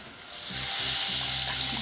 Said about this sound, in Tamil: புளி தண்ணி ஊற்றுறோம்.